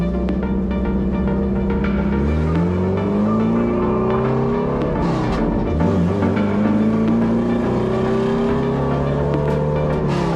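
A field of race cars at Mid-Ohio roars loudly on the back stretch at the green flag start, engines climbing through revs and shifting as they accelerate together.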